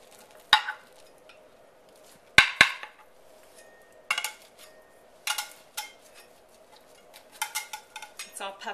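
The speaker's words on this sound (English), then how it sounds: "And so now I'll serve some and show you what it looks like on a plate." A breakfast casserole served from its baking dish onto a plate: a handful of sharp utensil clinks and scrapes against ceramic, spaced irregularly and close, with quiet pauses between them.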